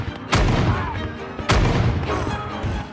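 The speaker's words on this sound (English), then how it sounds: "musket fire." Battle effects of cannon and musket fire: two heavy, loud booms about a second apart, each trailing into a rumbling, crackling layer of gunfire.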